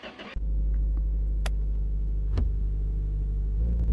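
Steady low engine drone of a Lada Niva being driven in a car mechanic garage game, loud and close, starting abruptly and holding constant with a few faint clicks on top, no speech.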